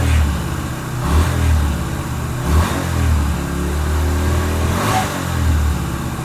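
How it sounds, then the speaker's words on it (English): A 2007 Yamaha Virago 250 motorcycle engine revs up in several swells over a steady running idle, loud and close with no talking. "Let me rev it up."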